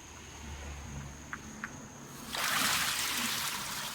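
Hot water pours steadily into a basin for washing sheep fleece, a broadband rushing that starts abruptly partway through and continues loudly to the end after a quiet stretch with a couple of faint clicks.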